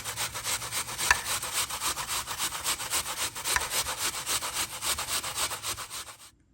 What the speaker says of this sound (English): Our apple is ready to grate, so we're going to get that grated up